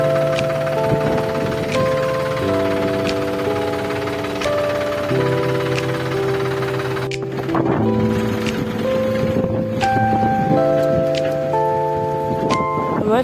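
Steady rain pours down inside a farming video game with tractors, a continuous wash of patter mixed under looping game music with sustained melodic tones, with no break across the whole stretch.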